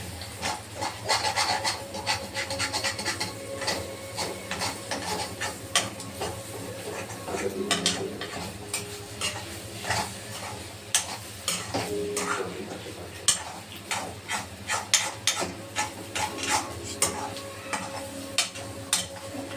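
A spoon scrapes and rubs through Konkani-style egg bhurji in a pan, a continuous close stirring with clinks against the metal, while people chat in the background.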